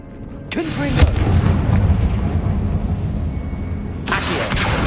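Confringo fire spell blasting in Hogwarts Legacy on PS5, a loud booming burst near the start that rumbles on through the clip, with a second surge near the end.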